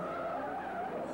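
A Ford car with bad brakes skids, a steady mid-pitched tire screech holding for about a second, fairly close and heard alone with no voices over it.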